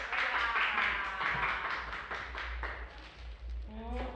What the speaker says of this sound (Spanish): pido un fuerte aplauso para Esmeralda Mitre.